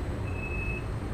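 Door-locking warning beep of an SBB RABe 523 train in Train Sim World 4, set in wintry Vorarlberg, Austria: a single steady tone of about half a second over a constant cab hum.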